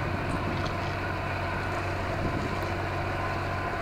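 A small outboard motor drives a light sailboat through gusty wind, a steady loud droning hum with constant broadband wind rush and no breaks.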